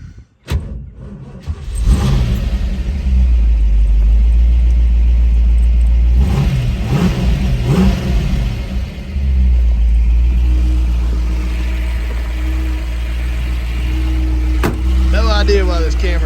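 A 1967 Shelby GT350 with a factory four-speed cranks over and fires up, settling into a loud, steady V8 idle that rumbles close by for the rest of the clip, with a brief blip of revs near the start.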